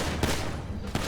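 Gunfire in the video game GTA V during a fight with cartel soldiers, with two loud, close shots about three quarters of a second apart over dense, noisy game sound.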